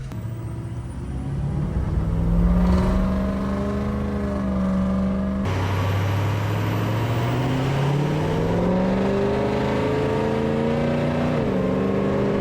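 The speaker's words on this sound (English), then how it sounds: "Literally the whole entire truck shakes as you're accelerating" A truck with a swapped 6.0 Powerstroke diesel and compound turbos accelerates, its engine droning and climbing in pitch through the gears, heard steadily and fairly loud from inside the cab.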